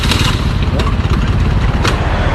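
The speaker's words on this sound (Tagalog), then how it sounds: "Umaandar makina pero hindi tumatakbo." A motorcycle with a snapped drive belt has its engine running at a steady, close, loud drone, with voices talking over it.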